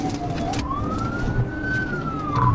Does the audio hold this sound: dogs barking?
no